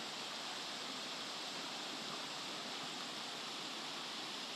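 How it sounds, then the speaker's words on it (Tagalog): Strong floodwater rushes through a swollen river, a dense, steady roar of churning water that fills the whole moment without letup and without any voices. "Ang lakas ng tubig."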